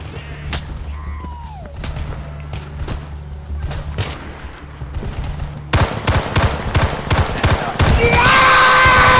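Rapid bursts of gunfire in the video game Insurgency crackle repeatedly during urban combat, growing louder and denser toward the end, with sharp shots and a whistling tone mixed in.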